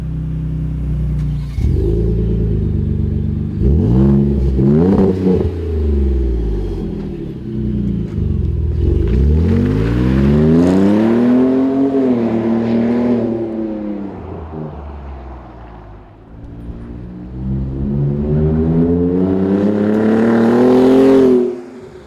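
A Ford F-150 Raptor with a V6 and an aFe Rebel stainless cat-back exhaust with dual side exits, driving on the road, its engine rising and falling through repeated loud accelerations and shifts with a deep rumble, close and alone.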